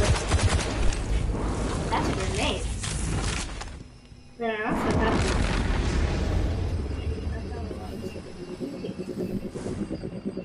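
Gunfire from a gun in the video game Destiny 2, with loud rapid bursts and blasts crowding the soundtrack, a brief dip near the middle, then sustained shooting and rumble with someone talking over it.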